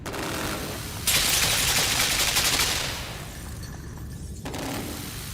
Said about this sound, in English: I'm going to get another machine gun here.